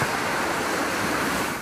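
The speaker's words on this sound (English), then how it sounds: "This is Oak Bay's Bowker Creek, transformed from a meandering waterway into a raging river." Bowker Creek in Oak Bay on Vancouver Island, flooded into a raging river by an atmospheric river storm, rushing in a loud, steady, broadband roar close by with no pauses.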